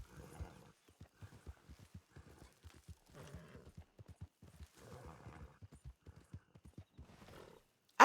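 A horse in the Red Dead Online video game trots with a steady clip-clop of hooves, broken by several whinnies and snorts, ending in a sudden loud burst.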